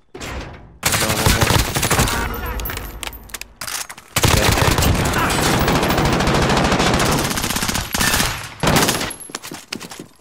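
Rapid automatic gunfire from a first-person shooter game rattles in loud, dense bursts across the clip, broken by a short pause midway, with brief player chatter in the background.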